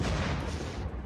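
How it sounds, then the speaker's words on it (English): Dynamite blast in the video game Unturned, a loud, dense booming explosion that fills the whole short moment with rumbling roar and no talk over it. "Boom! Goes the dynamite."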